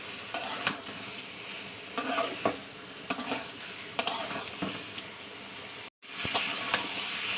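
Pond prawns being stir-fried with pumpkin and potato in a pan, a spatula scraping and stirring in irregular strokes over a steady sizzle, close and clear, with a brief pause near the end.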